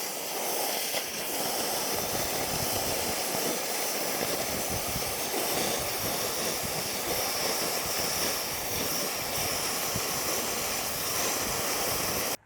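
Oxy-fuel cutting torch slicing through the steel of a backhoe bucket, a steady roaring hiss that stays loud and close without a break from start to finish.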